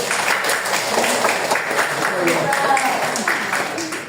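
Students applaud in a classroom civics lesson simulation, a steady patter of many hands clapping with voices talking over it throughout.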